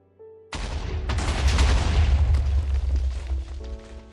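Loud, continuous explosion booms from Minecraft on Xbox 360, a dense rolling barrage of blasts that starts abruptly after a short quiet moment and keeps rumbling for several seconds before easing slightly.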